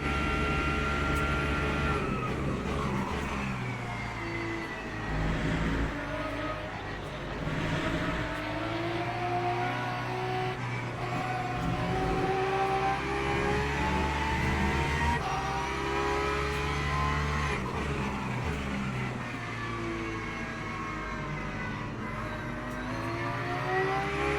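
Porsche GT3 race car in Le Mans Ultimate, racing at Spa, its engine revving and shifting through gears in a continuous high-pitched whine, with other cars close by.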